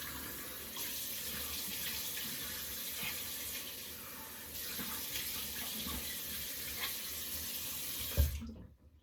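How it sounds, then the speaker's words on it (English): Cold tap water runs steadily into a sink, with a constant rushing hiss and small splashes, ending abruptly as the flow stops. "what I want to do is rinse it with cold water"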